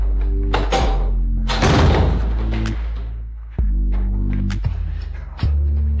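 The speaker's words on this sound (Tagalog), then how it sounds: "isara mo ang pinto" A door is shut, with several wooden thuds and a louder slam amid a steady low hum, the bumps spaced unevenly over several seconds.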